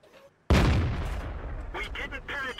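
An American M18 Hellcat's 90mm tank gun fires once in World of Tanks, a sudden loud close boom with a broad rumbling tail, followed by brief crackling and lighter impact noises.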